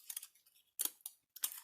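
Small scissors snip through paper to cut a leaf shape, giving three quick, close, crisp bursts of cutting with short pauses between them.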